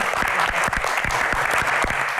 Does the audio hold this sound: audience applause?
yes